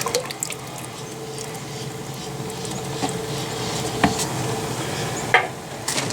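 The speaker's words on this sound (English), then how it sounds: "Now I'm adding the activator part B. It's basically clear liquid. Dump all the contents of that in there." Clear liquid activator for bedliner mix pours steadily into a container, producing a continuous liquid splashing and trickling with a couple of brief clunks near the end.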